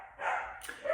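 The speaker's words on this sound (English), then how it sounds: "That's our dog in the background." A dog in the background of a home gives a short bark and yip, fairly faint and distant, lasting under a second.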